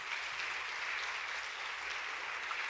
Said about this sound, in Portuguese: E aplaudir a palavra do Senhor.